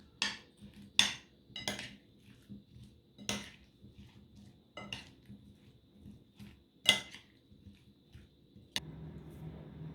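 Sliced potatoes being stirred with spices in a bowl, producing scattered clinks and scrapes of a utensil against the dish at irregular intervals, close and moderately loud, with no talking.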